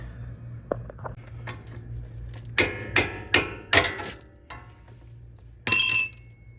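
Metal hammer blows on a pickle fork wedged into the upper ball joint of a 4Runner's steering knuckle, a few sharp ringing strikes close by, spaced unevenly, with clinks between and a final heavier hit.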